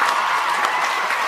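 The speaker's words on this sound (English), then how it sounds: "we need to give a big applause please" An audience applauding after a session, a dense, even wash of clapping that stays loud and steady throughout the short moment.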